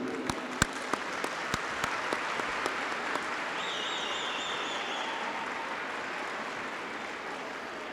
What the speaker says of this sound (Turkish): Ben burada tüm özverileriyle sizlerin huzurunuzda eğitmenlerimizi alkışlamak istiyorum